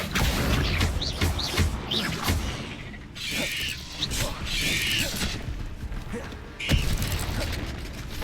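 Spell-casting effects from the Hogwarts Legacy video game come as bursts of crackling fire, whooshes and magical chimes over a dense, loud game soundscape, with shouted incantations.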